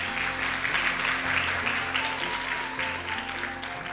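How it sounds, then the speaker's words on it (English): Sustained audience applause at a Mohiniattam dance debut recital, a continuous wash of many hands over a low steady hum from the hall's sound system, with no talking. "I think that she deserves another round of applause"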